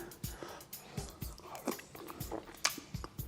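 Someone biting and chewing Samoan sua masi, a dish of softened crackers in coconut cream with lemon leaves, making soft, close, rhythmic wet chewing and crunching noises with no talk.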